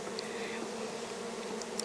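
Honeybees buzz on a hive frame during a hive inspection, making a steady, close droning hum that fills the whole stretch with no voices.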